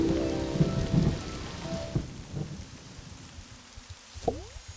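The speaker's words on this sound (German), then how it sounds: "Aber es regnet doch auch gleichzeitig" Steady rain patters with low rumbles of thunder rolling through in the video game Black and White, fading toward the end, with a short tonal chirp near the close.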